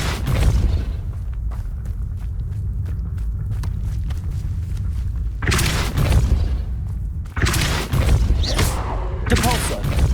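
Depulso spells blast in Hogwarts Legacy, heavy booming impacts that burst out loud after a stretch of lower rumbling and thudding, hitting several times in quick succession near the end.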